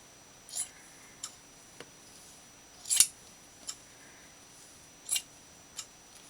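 Scissors snip fabric scraps into tassels: about seven sharp, isolated cuts at irregular intervals, close and crisp against a quiet room.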